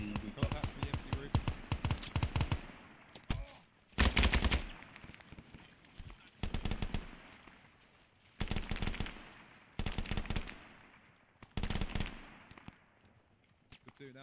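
In the Vietnam War game SOG Prairie Fire, loud machine gun bursts rattle out in repeated volleys with short gaps between them, while voices talk over the fire in between.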